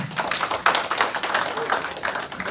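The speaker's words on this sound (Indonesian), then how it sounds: "kita tepuk tangan dulu buat Farah Button" Talk-show audience clapping for Farah Button, a scattered burst of hand claps at moderate distance, fairly brief and somewhat uneven.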